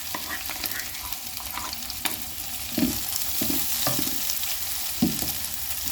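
Liver frying in a pan with onions, crushed ginger and garlic, a steady close sizzle broken by a few stirring scrapes and knocks of a spoon.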